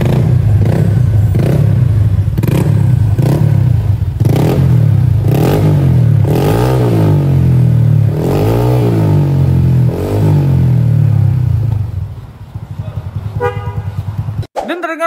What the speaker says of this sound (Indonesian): Dan terdengar mesin suara motor ini aman-aman aja ya guys.